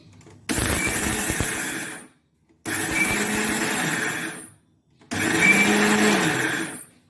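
A mixer grinder jar runs in three short pulses of about one and a half to two seconds each, with brief silent pauses between. Each burst is a loud, steady whirring grind with rough texture, heard alone without talk.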